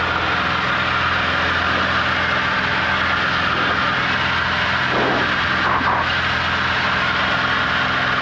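A small airplane engine drones steadily in flight, heard from inside the cabin as a loud, constant roar throughout.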